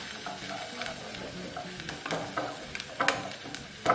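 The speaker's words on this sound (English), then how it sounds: "I'm just going to get my wooden spoon and give this a stir" Soft onions sizzling gently in a pan as a wooden spoon stirs and scrapes them, producing irregular scraping clicks over a low, steady fry, close and fairly quiet.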